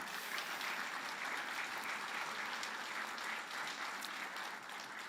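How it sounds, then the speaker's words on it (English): Audience at a retirement celebration applauds, a soft, steady, even wash of many clapping hands heard from some distance, fading slightly at the very end. "A round of applause for them too"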